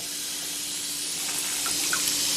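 Tap water running steadily to fill softened sausage casings for homemade Italian sausage, a continuous close hiss of flowing water with faint splashes and no talk.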